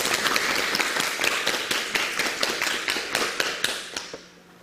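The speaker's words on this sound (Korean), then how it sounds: "박수!" Applause from a small group: a steady run of claps with sharp individual hits, fading out near the end.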